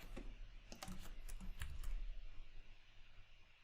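C# code being typed on a computer keyboard in quick bursts of crisp key clicks, close and distinct, with short gaps between clusters before the clicking trails off into quiet room tone.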